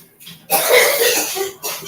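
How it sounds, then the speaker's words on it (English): A woman bursts into hard, raspy coughing abruptly after a quiet moment, close and loud, with another cough breaking in near the end. "That made her cough so hard she's about to pee on herself."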